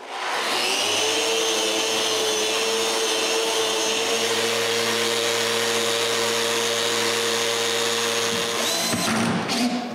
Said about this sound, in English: I sand them smooth.